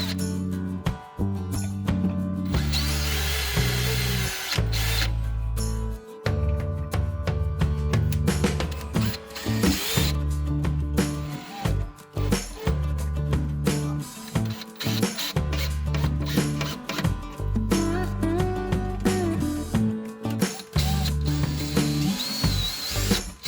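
A power drill drives screws to join a wardrobe shelf and rail, whirring loudly and close in repeated bursts of several seconds, with brief pauses and some ratcheting clicks between them.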